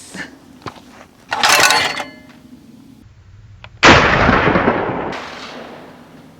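Rifle shots fired during outdoor skeet shooting practice: two loud, sharp cracks with ringing tails, the second about two seconds after the first, with quiet outdoor ambience between them.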